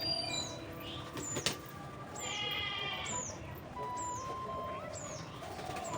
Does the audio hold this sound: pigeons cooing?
yes